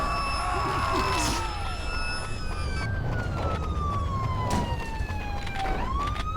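A police siren wails in a video game, its tone sweeping slowly up and down over a rumbling engine, loud and continuous throughout.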